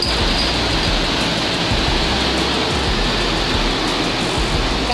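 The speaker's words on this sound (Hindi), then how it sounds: "और देखो पानी आ रहा वहां से कितना" Water flowing out at the Trilokpur temple cave in Himachal Pradesh, a steady broadband rushing wash that holds at an even loudness throughout, close and continuous with no talk over it.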